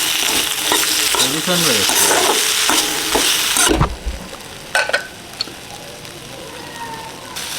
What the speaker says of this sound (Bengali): দিয়ে দিলাম তেলের ভিতরে